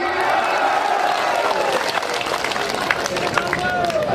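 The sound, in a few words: crowd applauding at a political rally speech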